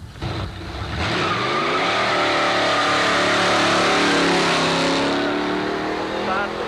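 Antique drag racers, a 1934 Dodge truck and a '54 Chevy, launching at Carlsbad Raceway, engines rising from a brief lull into a loud revving roar with tire squeal, with an announcer talking over it.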